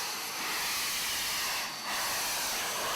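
A historic early-1900s steam engine on the Texas State Railroad hisses in a loud, continuous broadband rush that dips briefly before resuming.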